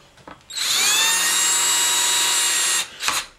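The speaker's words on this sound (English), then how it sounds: "a drill that makes a big enough hole so you can come through" A power drill runs steadily for about two seconds while boring a hole big enough to pass two wires through, for a homemade e-cig battery mod. A brief tool noise follows after it stops.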